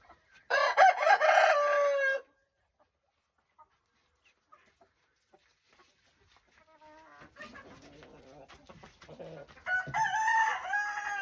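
A rooster crows loudly and close by, then after a quiet pause chickens cluck and murmur, building into another harsh crow at the end.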